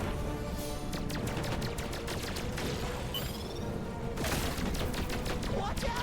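Rapid gunfire in the sci-fi video game Starship Troopers: Ultimate Bug War, dense streams of sharp repeated shots with bursts and blasts, loud and continuous throughout.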